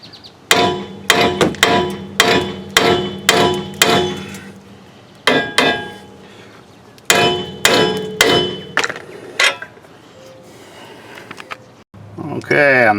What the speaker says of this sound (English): I'm going to hit the steering knuckle here with a hammer with a swift blow